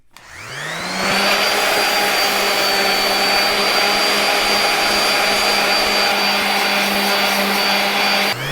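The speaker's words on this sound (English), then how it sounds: "Oh yeah, and I got to plug in my sander." An electric sander runs steadily as it shapes a wooden axe handle, spinning up after a moment and then holding one loud, continuous whine with a steady tone, close up and with no talking.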